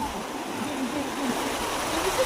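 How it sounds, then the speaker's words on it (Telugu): A steady rush of flowing water, continuous and fairly close, with voices faintly audible underneath. "నీళ్ళు నీళ్ళు నీళ్ళు"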